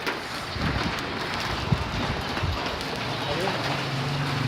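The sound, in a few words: rain falling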